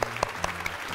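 A short burst of studio-audience applause for both teams on a Vietnamese TV competition show: a few loud, separate claps at close range, lasting under a second.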